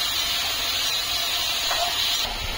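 Chopped tomatoes sizzle as they are sautéed in a pan with onions for a paneer bhurji, giving a steady close hiss with light crackle and no talking.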